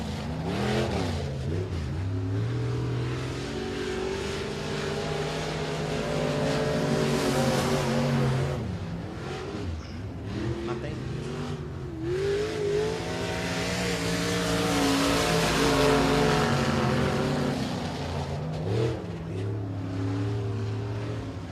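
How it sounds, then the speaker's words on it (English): A race car runs a time trial lap at Boothill Speedway, a dirt track, during the Mike Parker Memorial. The engine roars continuously, rising and falling in pitch as it revs through the corners and sweeps past, loud and sustained. "It's Michael King Jr. in the 14 Jr. car."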